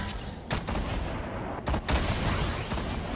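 Sniper gunfire in the video game Fortnite: two sharp, loud shot reports about a second apart, each with a short echoing tail over steady game background noise.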